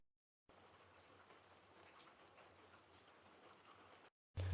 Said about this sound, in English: some rain samples.